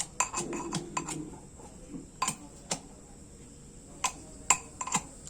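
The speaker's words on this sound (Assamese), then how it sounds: "জলকীয়াখিনি খুন্দিছে।" Green chillies being pounded in a kitchen, with sharp metallic clinks and knocks that come irregularly and close, and a voice speaking briefly at the start.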